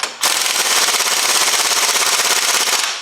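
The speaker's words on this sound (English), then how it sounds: "it's good to have a nice powerful air gun" Pneumatic air gun loosening nuts on an Opel Zafira engine in a home garage: one loud, continuous rapid hammering burst of about three seconds, close by.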